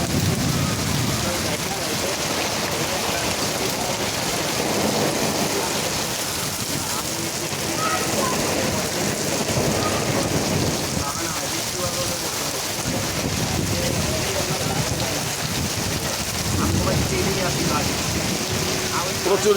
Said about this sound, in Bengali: প্রচুর বৃষ্টি হইতাছে।